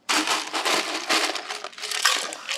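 Ice cubes tumble into a tall glass in a dense clatter of clinks and crunchy rattles lasting a couple of seconds. The sound is close and fairly loud, with no talking.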